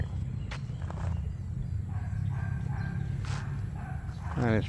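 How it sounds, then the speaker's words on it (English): A single dog barks from inside a house along a street in Bacong, Philippines, a few sharp barks heard at a moderate distance over steady outdoor ambience, with a louder yelp near the end. "I hear one dog barking."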